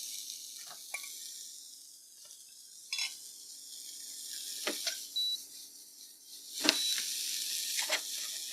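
Steady hissing sizzle of tomatoes and onions frying in a pan, with occasional scrapes and clinks of a utensil stirring.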